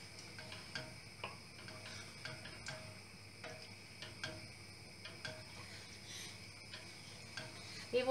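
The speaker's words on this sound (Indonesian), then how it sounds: "then you just stir." A spoon stirs tekwan, a mackerel fish-ball soup, in a pot, giving faint, regular light clicks and taps against the side over a quiet background, with no talking.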